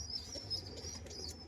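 Faint pigeons, including a female Bangladeshi pigeon, coo softly in a loft, with thin high chirps over a low background hum, distant and quiet.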